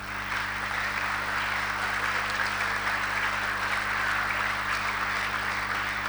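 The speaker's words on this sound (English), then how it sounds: "Bleoobi, you should be clapping with a lot of energy" Steady applause from a school audience at an orientation for newly admitted students at Accra Academy, filling a large space, with continuous clapping at an even level throughout and a low hum underneath.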